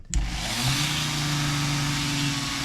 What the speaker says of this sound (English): The Dremel's been a little bit funny recently